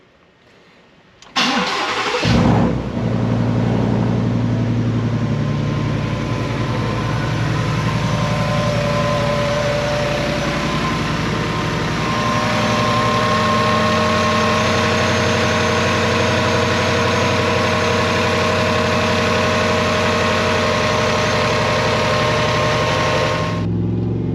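A 2019 Ford F150 fitted with a Stage 2 Gen 5 Whipple supercharger cranks, fires up loudly and settles into a steady, rumbling idle with a high whine, close and sustained for over twenty seconds.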